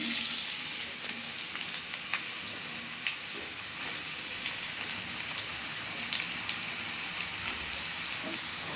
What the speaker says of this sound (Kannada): ಎಣ್ಣೆ ಕಾದಿದೆ, ಈರುಳ್ಳಿ ಹಾಕ್ತಾಯಿದ್ದೀನಿ.